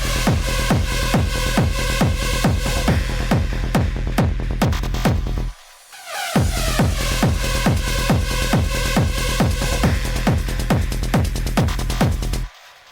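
Techno drop with a pounding four-on-the-floor kick, throbbing bass and a chopped vocal sample, playing loud and continuous, cutting out briefly to a short breakdown before slamming back in.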